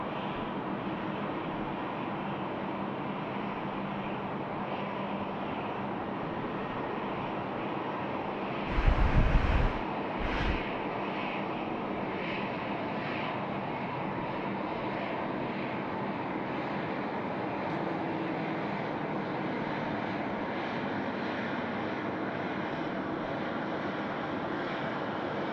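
A Qantas jet takes off from runway 34 left at Sydney Airport, a loud continuous engine roar with wind buffeting the microphone and a brief louder gust partway through.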